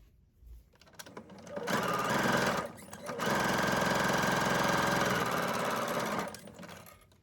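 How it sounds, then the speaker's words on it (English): A sewing machine stitches a fabric face mask in two rapid, steady bursts with a brief pause between them, buzzing close and fairly quiet with no talk. "We can then stitch this down just with like 1/8 of an inch stitch."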